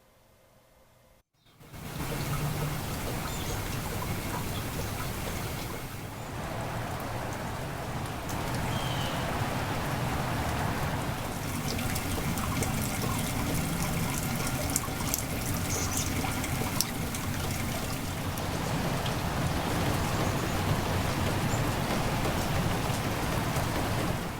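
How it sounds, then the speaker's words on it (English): Rain falls steadily outdoors after a brief quiet start, a dense, even hiss of drops spattering on surfaces with occasional trickles, continuous and moderately close, with no voices. "In case you didn't have the chance to go outside and listen to the rain today, enjoy the next 30 seconds."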